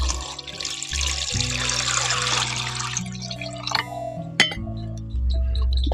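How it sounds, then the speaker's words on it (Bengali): Ghee is washed with water, with splashing, dripping water and light clinks of a vessel, close and continuous before settling toward a quieter hum at the end. "এখন এটাকে ভালো করে জল দিয়ে ধুয়ে নিতে হবে"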